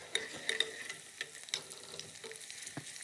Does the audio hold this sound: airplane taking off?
no